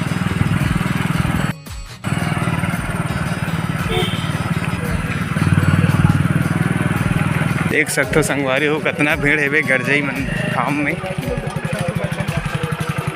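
Motorcycles running and passing through the crowd at a temple fair at Garjai Dham, engines droning loud and close with a brief drop-out and revving passes later, while someone talks over the noise.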